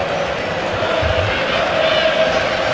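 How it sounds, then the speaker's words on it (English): Football stadium crowd at a Barcelona versus Liverpool match rises into a steady, swelling roar of distant voices across the stands, with no single voice standing out. "Crowd have picked up the tempo, which rather dragged as half-time approached."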